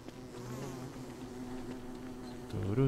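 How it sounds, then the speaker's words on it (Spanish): Bees buzzing in the video game Don't Starve, a steady close drone throughout that swells slightly louder near the end, with no talking. "Hay muchas flores al lado de las abejas."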